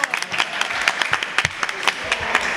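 Audience applause at a press conference with DJs in Tuxtepec, a brief burst of scattered, uneven claps with some crowd noise mixed in.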